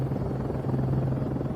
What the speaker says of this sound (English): As the helicopter scans the ground below, suddenly something shows up.